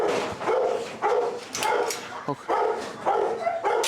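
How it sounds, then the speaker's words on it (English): A frustrated dog barks repeatedly in short bursts, close and fairly loud, with yips between barks and a person speaking briefly. "this barking, I don't really mind this so much"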